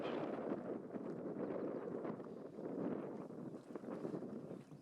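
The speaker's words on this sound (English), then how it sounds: "The wind's picking up now." Wind blows steadily outdoors among daisy bushes as a broad, continuous rushing roar that buffets the microphone, rising and falling slightly in strength throughout.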